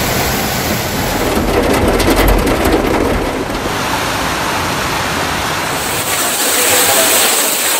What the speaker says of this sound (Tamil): பருவமழை தீவிரம் அடைந்துள்ளதால் மும்பையில் இடைவிடாது கனமழை பெய்தது.